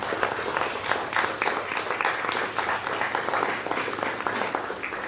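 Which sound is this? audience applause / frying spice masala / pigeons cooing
audience applause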